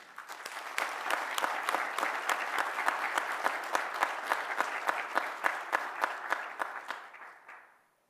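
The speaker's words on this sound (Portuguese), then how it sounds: "solicitar a todos uma salva de palmas para eles" A small audience at a legal lecture gives a round of applause, clapping that swells quickly, holds steady with distinct individual claps audible, then tapers off near the end.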